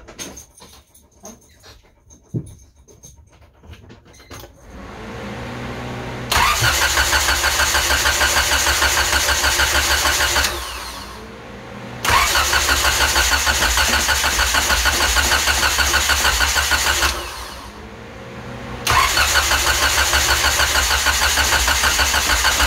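An Isuzu Trooper engine cranks and catches after a quiet stretch, then runs loudly and steadily, dipping twice to near idle before surging again; no talk.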